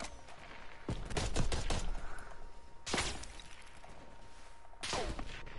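Gunfire in the Call of Duty Cold War video game, bursts of rapid shots with sharp cracks and a few louder single blasts spaced a couple of seconds apart, close and punchy with little talk.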